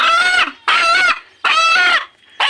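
A rooster close by gives three loud, drawn-out clucking calls with brief silent pauses between them, alone and without talk.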